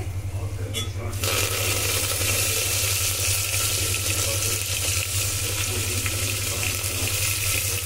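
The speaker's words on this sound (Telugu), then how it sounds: "పప్పులో నుండి తీసుకున్న వాటర్ అనేది వేసేద్దాము" Water pours steadily into a simmering pot of dal with ridge gourd, a continuous broad splashing rush over a low hum from the stove, with no voices.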